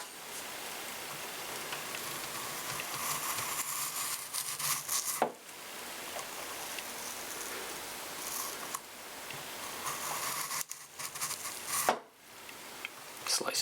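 A Tracker knife cuts repeatedly through an apple in a long stretch of close, crisp slicing and rubbing sounds, broken by a few short pauses and sharp cuts near the end.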